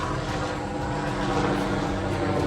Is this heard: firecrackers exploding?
no